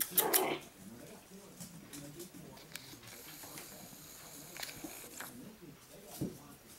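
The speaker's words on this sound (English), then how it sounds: "One brown poodle and one black maltipoo boy." Brown poodle and black maltipoo puppies whimpering and snuffling, faint high whines and small yelps scattered among soft rustling, with people talking quietly nearby.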